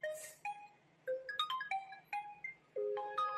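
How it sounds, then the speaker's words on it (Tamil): A phone ringtone signals an incoming call, playing a bright, melodic sequence of electronic tones in short repeated phrases, clear and moderately loud with no talk over it. "ஃபோன் வருது."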